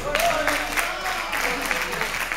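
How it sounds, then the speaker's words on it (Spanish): Congregation applause at an evangelical church service, a moderate patter of many hands clapping that runs through the whole stretch while a voice talks over it. "Denle un aplauso a"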